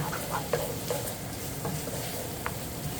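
Onions and freshly minced garlic fry in a pan for beef enchiladas, giving a steady close sizzle with a few soft stirring taps.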